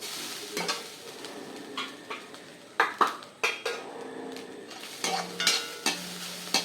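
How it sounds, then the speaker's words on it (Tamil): Grated coconut dry roasting in a pan over a medium flame, with a spatula scraping and clinking against the metal in scattered strokes over a soft, steady sizzle. "இதை நல்லா ட்ரை ரோஸ்ட்டாக வறுத்துக்கணும்"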